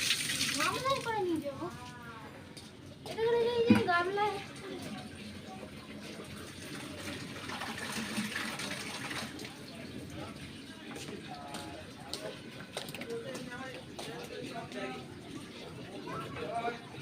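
Tap water runs into a basin outdoors, a soft steady splashing that rises briefly and then continues under nearby conversation and household voices.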